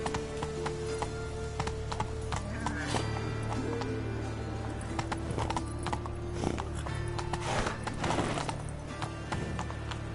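Rhythmic clip-clop of Roach, the horse in the video game The Witcher 3, galloping steadily for several seconds, with a whinny and faint tack rattles over a constant game ambience.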